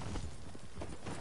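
Horse hooves clip-clop in Red Dead Online, a steady muffled patter of footfalls from a ridden horse, faint and blended into broad outdoor game ambience.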